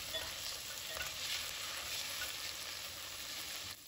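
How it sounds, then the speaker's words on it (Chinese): Spices sizzle and crackle steadily in hot lard in a wok, a dense, close frying hiss with faint stirring scrapes, dropping slightly in level at the very end. "将其炒香"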